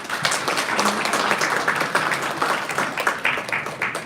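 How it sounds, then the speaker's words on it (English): A seated audience at a religious education gathering applauds for a priest, a dense, steady round of many hands clapping that carries on for several seconds with a lively, roomy sound. "we could all give them a warm round of applause"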